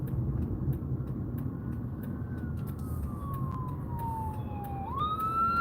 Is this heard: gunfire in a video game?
no